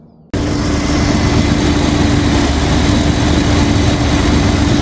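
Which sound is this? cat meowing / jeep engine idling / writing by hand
jeep engine idling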